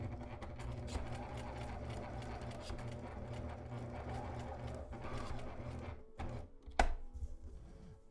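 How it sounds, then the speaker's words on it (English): A sewing machine back stitching a fabric mask gives a steady rapid mechanical chatter, close and continuous, which pauses briefly before a short final burst and a sharp click. "I'm just going to back stitch here."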